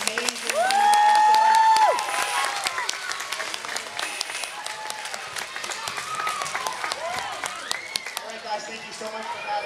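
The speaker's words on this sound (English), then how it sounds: "a very, very, very, very big round of applause for Amanda" An audience applauds warmly for a school guest, with steady clapping, a loud whistle near the start and scattered cheers and voices that gradually thin out.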